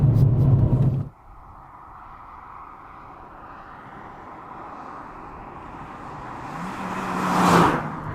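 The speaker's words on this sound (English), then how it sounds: "once you get on it, and you get that engine spinning" Proton Satria Neo 1.3 GSX engine pulling away, a quiet steady drone that climbs and swells near the end after a brief louder burst at the start.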